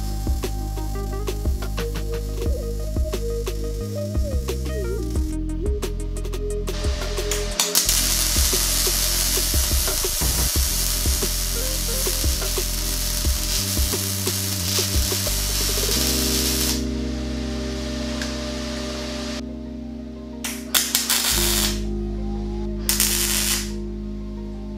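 Welding mirrors onto a Cybertruck-inspired go-kart body, with steady hissing and crackling welding arcs in bursts alongside workshop machine hum and a few sharp stops.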